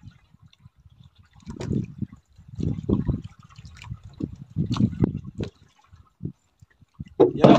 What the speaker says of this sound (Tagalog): yan ang tulo ng ating bangka, butas